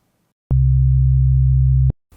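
Two pure sine tones sound together as one steady, loud low hum. It starts abruptly, holds unchanged for about one and a half seconds, then cuts off sharply with no voice.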